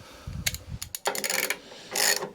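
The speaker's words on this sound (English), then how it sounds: "That's a 1/2 inch on a ratchet. Professional ratchet here, none of your B&M stuff." A half-inch professional ratchet working a fastener during a Honda lawnmower gearbox repair, giving several short bursts of sharp metallic clicking, close and fairly loud, with pauses between strokes and a longer rapid run at the end.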